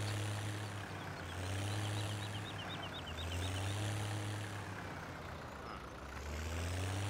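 A tractor engine idles in a video game while hitched to an Akron bagger, giving a faint, steady low rumble with slow pulsing swells.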